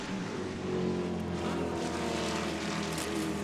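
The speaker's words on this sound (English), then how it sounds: "Oh, beautiful roar of these engines." Vintage race car engines roar continuously at a racetrack during an SVRA event at VIR, a steady loud mechanical drone with shifting engine tones heard from an elevated vantage point.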